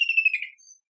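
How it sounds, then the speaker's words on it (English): A kingfisher gives a short, high, shrill whistled call, a quick bright trill that fades within a second, clear and alone. "kingfisher,"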